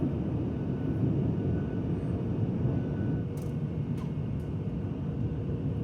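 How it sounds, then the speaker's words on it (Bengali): Steady, muffled drone of an Oman Air airliner cabin during the descent into Muscat, a low continuous engine hum with faint airflow hiss and a few soft brief clicks, no voices. "আমরা মাস্কাট পৌঁছায় গেছি, কিছুক্ষণের মধ্যে সম্ভবত ল্যান্ড করবো।"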